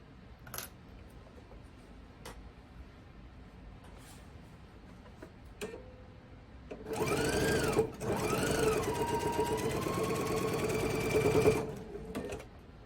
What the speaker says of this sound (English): I'm going to go ahead and sew these together.